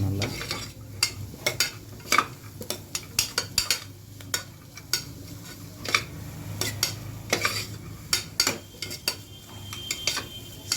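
Vegetables for homemade soup are stirred in a pot over a medium flame, a spoon scraping and clacking against the metal in a steady run of sharp knocks over a low sizzling bed, close by, with no talk.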